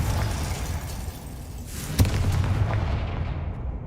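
Confringo fire spell in Hogwarts Legacy, a steady rumbling roar with a sharp blast near the middle, loud and continuous over dense game ambience.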